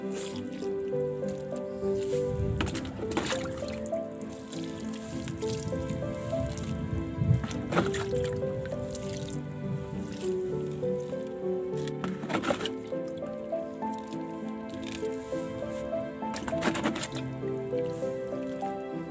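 Water splashes and drips onto a pile of leaves being moistened for leaf mould, with repeated wet patters and squishy sounds recurring every few seconds at close range, alone without talk.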